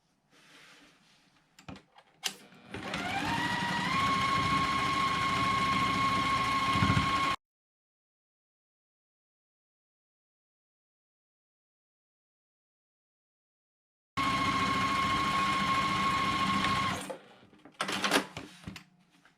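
A sewing machine stitches quilt block pieces in two bursts of steady whirring motor hum with a rising pitch at the start, separated by a long silent gap, with handling clicks around them.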